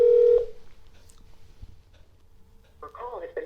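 A telephone call plays out as a steady tone that cuts off early, then a faint quiet line, ending with a recorded-sounding voice.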